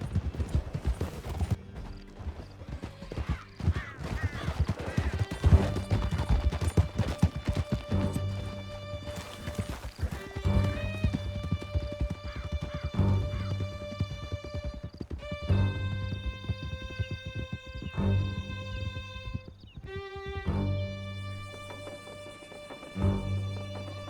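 Horses galloping in Red Dead Redemption 2 during a canyon escape, steady rapid hoofbeats with neighs and whinnies over a dramatic orchestral score, with no talking.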